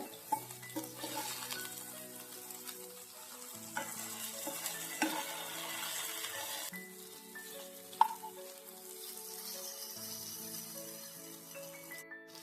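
Chicken roasting on a tawa, a faint sizzle with scattered clinks and scrapes as the pieces are turned, one sharper knock near the end.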